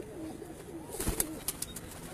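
Pigeons cooing on a rooftop where racing pigeons are kept, a soft low burbling call near and fairly quiet, followed by a few sharp flapping or clapping bursts of wings.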